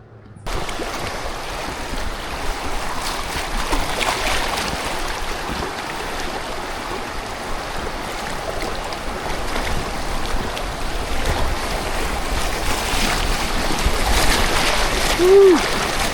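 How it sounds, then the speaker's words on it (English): River water rushes steadily along a lazy stretch of river in Pennsylvania's Seven Mountains, a continuous broad wash with splashing that swells slightly toward the end, with no clear talk. "The lazy part of the river."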